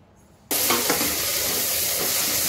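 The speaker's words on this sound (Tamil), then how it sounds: "தக்காளி சேர்த்து நல்லா வதக்கிக்கலாம்." Onions and tomatoes sizzle loudly in a hot pan for crab gravy, a sudden burst of frying hiss after a quiet start, with faint stirring scrapes and no talk.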